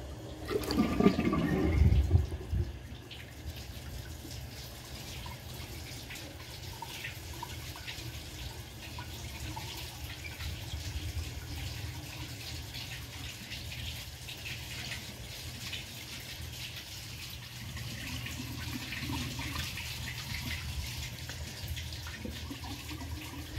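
A 2001 Capizzi toilet flushes with a washcloth in the bowl. A loud, gushing rush opens the flush, then settles into a long, steady trickle and hiss of the tank refilling.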